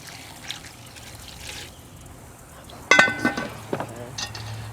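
Water pours and trickles into a pot or bowl while traditional Gullah food, including Carolina Gold rice, is cooked, with a brief clink of dishes, close and moderately loud.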